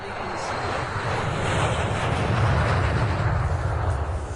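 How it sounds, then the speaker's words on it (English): Low, steady aircraft drone rumbles continuously as a radio drama effect of airplanes flying overhead, swelling slightly and holding a broad, windy roar without a break. "The planes! Don't you hear them?"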